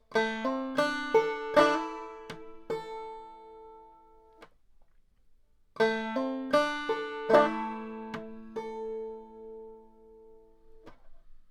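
Banjo picked and strummed in a bouncy clawhammer pattern playing the tune Yew Piney Mountain, bright ringing notes in two short phrases separated by a pause, alone.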